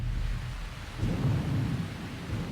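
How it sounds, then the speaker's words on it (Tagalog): Heavy rain pours down steadily with deep rolling thunder rumbling beneath it, a loud continuous wash of storm noise during a city rush hour, with no voices. "Biglang bumuhos ang malakas na ulan ngayong rush hour."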